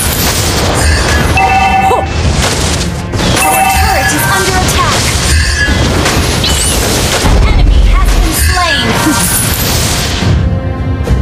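Turret destroyed in Mobile Legends, loud repeated crashing booms and impacts amid busy game effects and music throughout, with an announcer voice heard in places.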